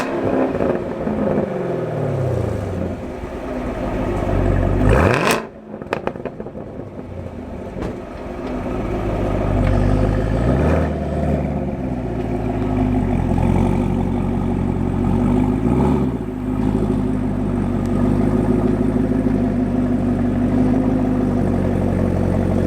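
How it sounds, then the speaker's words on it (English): Chevrolet Camaro ZL1 engine on its stock exhaust, revved repeatedly in a shop, with rising and falling throttle blips over a steady loud idle and a sharp burst near the start. "We got to get one last rev"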